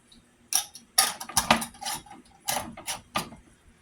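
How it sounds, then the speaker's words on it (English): A lid goes onto a pint glass jar of homemade dilly beans, several sharp close metal-on-glass clinks and taps in a quick irregular series, with no voice. "Then you put your lid on"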